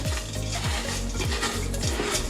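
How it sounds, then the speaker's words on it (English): Room-temperature cream cheese being stirred into an Oreo truffle mixture, with steady scraping and mixing strokes that repeat in a loose rhythm, close and continuous, with no talk. "we're gonna take our room temperature cream cheese, and you're basically just gonna incorporate everything"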